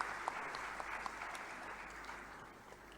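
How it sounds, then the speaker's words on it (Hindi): An audience at an institute foundation day ceremony in Lucknow applauds with dense, steady clapping that holds at an even level for about three seconds, heard from within the hall with no voices on top. "कृपया तालियों की करतल ध्वनि से इस पल को अविस्मरणीय बना दें।"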